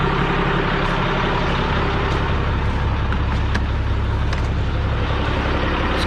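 A warmed-up truck engine runs close by, a loud, unbroken rumble with a dense roar that holds steady throughout, with no one talking.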